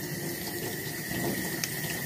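A fishing reel with its handle removed is washed under a running tap, a steady close hiss and splash of flowing water that continues throughout.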